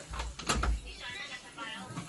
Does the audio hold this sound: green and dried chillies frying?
no